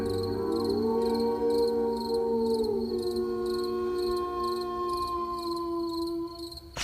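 Crickets chirp at night in the rain-washed countryside of a Bengali ghost-story cartoon, a steady pulsing trill repeating evenly under a sustained eerie tonal drone, with no voices.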